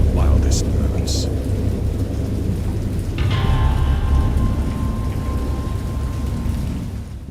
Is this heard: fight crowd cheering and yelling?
no